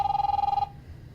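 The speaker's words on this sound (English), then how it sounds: "Luckily that phone cut him off" In The Wolf Among Us video game, a telephone rings with a rapid trilling electronic bell tone, loud and close for about half a second before cutting off, leaving quiet room noise.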